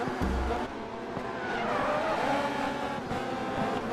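Formula C race cars roar through a GRID Autosport race, engines droning loud and continuous with tyre noise as one car slipstreams past another.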